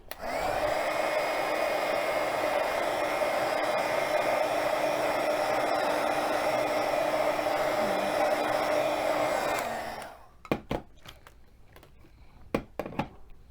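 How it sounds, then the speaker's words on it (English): A heat tool blows continuously for about ten seconds while heat setting stamped ink on paper, a loud steady whir close by, then cuts off, leaving a few light taps and clicks. "And we're going to heat set it as well."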